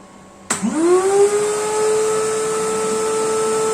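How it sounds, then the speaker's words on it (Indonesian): A vacuum cleaner switches on with a sharp burst, its motor whine climbing in pitch and then settling into a loud, steady drone with hiss. "untuk beban awal ini kita ada sebuah penyedot debu ya"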